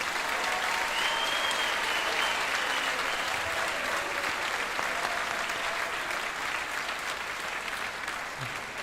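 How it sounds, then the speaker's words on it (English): Sustained audience applause for students recognized at a spring school concert, a dense, steady wash of many hands clapping in a hall, holding at an even level for the whole stretch with only a slight fade near the end. "Please give them a round of applause"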